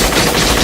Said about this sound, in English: we finally have some gunfire